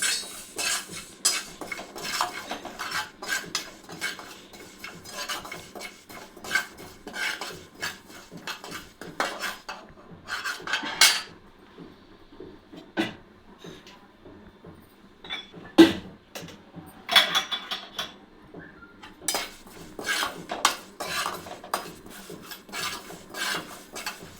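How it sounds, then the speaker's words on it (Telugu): Two spoonfuls of sesame seeds dry roasting in a pan for a mint and tomato chutney, stirred with a spoon: steady scraping, rasping and clinking of metal against the pan in irregular bursts, with quieter pauses between and no talking. "ఒక రెండు స్పూన్ల నువ్వులు మంచిగా దూరగా వేయించుకోవాలి నువ్వులని"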